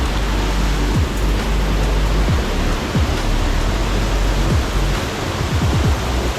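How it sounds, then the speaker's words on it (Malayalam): Water rushes steadily over the top of Thoniparra waterfall as it flows down through forest, a loud, continuous broadband roar with no pauses and no voices. "ഈ വെള്ളച്ചാട്ടത്തിൻ്റെ മുകൾ ഭാഗമാണ് കേട്ടോ"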